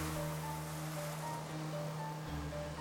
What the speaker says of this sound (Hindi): अब लहरें जोर से उछलने लगी।